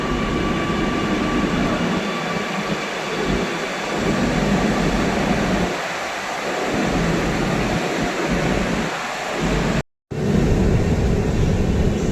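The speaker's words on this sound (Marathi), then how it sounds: "इथं अशी मेट्रो आहे" A Kochi metro train in Kerala rumbles steadily, with a continuous mechanical drone and occasional low surges; a brief dropout interrupts the sound near the end.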